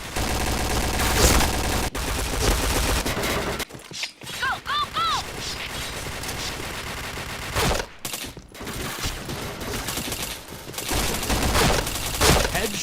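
Rapid bursts of gunfire crackle through a shooting video game, alternating with short gaps and brief tonal game effects, all loud and close.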